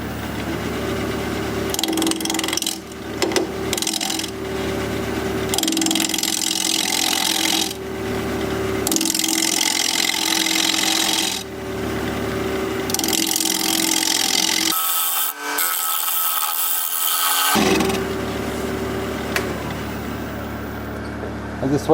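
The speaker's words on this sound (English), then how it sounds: "We're going to be turning at 1300 RPM, half-inch standard grind bowl gouge" Half-inch standard-grind bowl gouge cutting a small, rough wooden bowl blank on a lathe spinning at 1300 RPM, a steady scraping hiss that comes in repeated passes with short gaps, loud and close.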